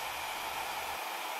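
A hairdryer blows in a steady, even rush of airflow noise with a low motor hum underneath that drops out near the end, brief and fairly quiet with no voices.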